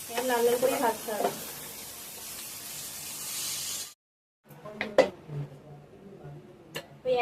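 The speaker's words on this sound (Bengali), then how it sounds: "লাল লাল করে ভাজতে হবে।" Soybean chunks frying in oil in a pan, a steady broadband sizzle for about four seconds, then a brief silence before quieter sizzling returns with occasional knocks and scrapes, with a faint voice at the start.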